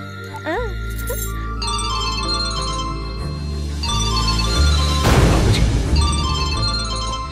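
A phone rings with a repeating electronic tone over a continuous music bed, with a crash-like burst near the middle.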